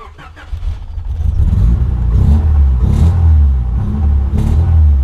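A Honda Civic Estilo SR3 with a B18C Type R engine, needing a retune, revs unevenly, rumbling and stuttering through several surges of throttle, loud and close with no talking.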